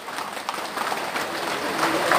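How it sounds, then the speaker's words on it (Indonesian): A crowd at a Parti Warisan Sabah political rally gives applause, a moderately loud, continuous patter of clapping that swells slightly toward the end, with some voices mixed in. "Sekali lagi takut bagi tepukan gemuruh."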